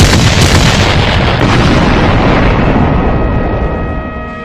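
Heavy artillery gun firing in a war film, one loud, dense blast that rolls on and slowly fades with a long rumbling tail.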